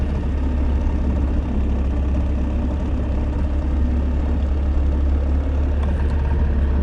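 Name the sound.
boat outboard motor idling in neutral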